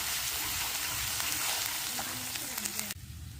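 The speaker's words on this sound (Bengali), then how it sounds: "এখানে আমি দিয়ে দিয়েছি সামান্য একটু পেঁয়াজ আর রসুন বাটা দিয়ে এটা আমি আরও কিছুটা সময় ভালো করে কষিয়ে নেব" Onion and garlic paste sautéing in a pan for a rustic village fish dish, a loud close continuous sizzle and crackle that cuts off abruptly near the end, followed by quieter background noise.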